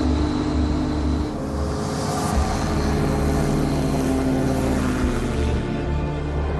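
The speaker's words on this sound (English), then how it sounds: "Gliding on a cushion of compressed air, the bumpy start becomes an effortless ride." An AIRFISH ground-effect craft gliding on a cushion of compressed air after takeoff, its engine and propeller producing a loud, steady drone with no talk.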